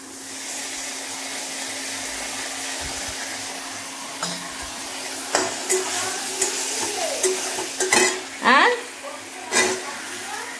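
Sliced onion frying in a pan before ginger paste is added, with a steady sizzle and some stirring scrapes, and a voice speaks briefly near the end.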